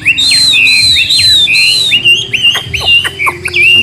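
A laughingthrush sings a rapid run of bright, loud whistled phrases and sharp chirps up close, pausing briefly between bursts, with faint low background noise beneath.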